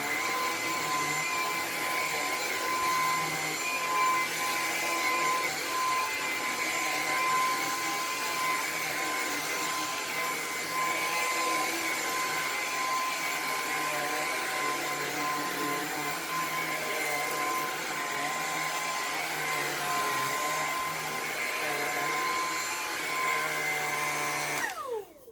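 A Lupe Pure Cordless vacuum cleaner runs steadily with a constant motor whine and brush hum, loud and close, holding level for about 25 seconds before cutting off abruptly at the end.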